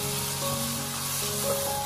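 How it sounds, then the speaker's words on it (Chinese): Eggplant stir-fried over high heat in a wok, a steady close sizzle with scraping and tossing textures running throughout, loud and continuous with no talking. "茄子加进来之后，一定要开大火翻炒"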